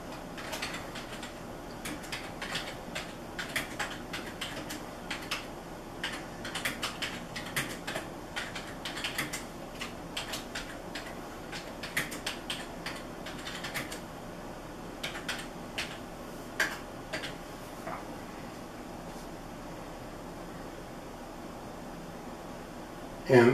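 Someone typing on a computer keyboard with uneven bursts of close, light key clicks over a steady fan hum, with no talk.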